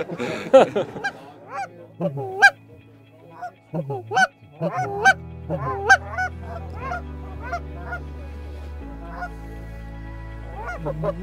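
Giant Canada geese flying in to land honk repeatedly, several loud calls overlapping near at hand, then fading to scattered honks with a low rumble behind.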